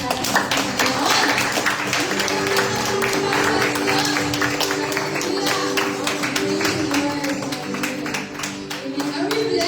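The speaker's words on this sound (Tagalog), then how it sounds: "Sige po, tuloy natin ang malakas na palakpak para sa Panginoon." Loud, sustained applause from a church congregation praising the Lord during a worship service, steady clapping filling the room for the whole stretch with voices mixed in.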